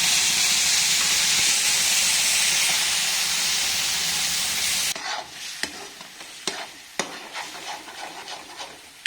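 Cumin seeds and ginger-garlic paste hit hot oil for a home-cooked matar paneer, giving a loud, dense sizzle for about five seconds that then drops to a softer crackle broken by sharp spoon scrapes and clicks.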